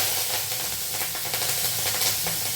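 Curry leaves hit hot oil with turmeric in a pan, giving a steady, moderately quiet sizzle and crackling hiss that keeps going without a break.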